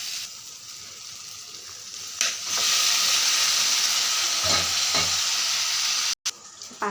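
Pasta stirred and fried with tomato in a pan, a low sizzle that swells into a louder, steady hiss, with a few soft stirring scrapes toward the end.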